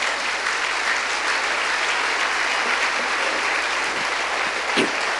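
A church congregation at a worship service claps loudly and steadily, sustained applause filling the room throughout with a brief louder swell near the end.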